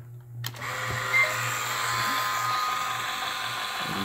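A small side brush motor added to a Neato D3 robot vacuum, running at about 4.5 volts, gives a steady whirring hum up close after a brief click at the start, continuing evenly without talk.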